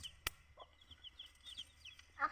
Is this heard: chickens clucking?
yes